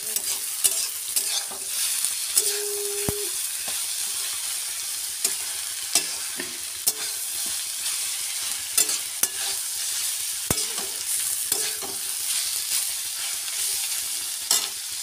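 Chow mein stir-frying in a small wok, a continuous bright sizzle broken by frequent clanks and scrapes of a spatula against the metal, loud and close throughout.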